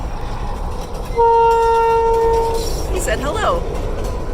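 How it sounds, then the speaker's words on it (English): A short line freight train moving across the prairie gives a steady two-tone horn blast lasting over a second, followed by a rumbling pass, while someone speaks briefly nearby. "It's a train, it's a short line, it's moving"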